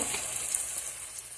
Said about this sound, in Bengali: পেঁয়াজটা একটু ভাজা হয়ে নিই